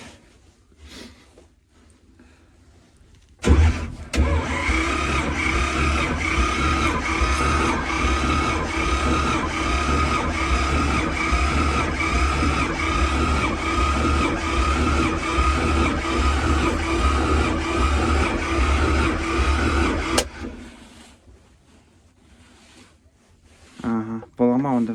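A T-25 tractor engine labors loudly and rhythmically for about sixteen seconds in a cold start attempt at -10 degrees, then cuts out, leaving quiet surroundings.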